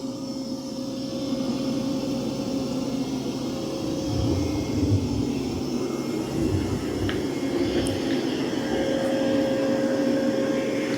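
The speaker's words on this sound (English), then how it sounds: "it's doing a great job of vacuuming" Dreame Matrix 10 Ultra robot vacuum running across a floor, a steady motor hum and whine at moderate level with a low droning rumble, no talk.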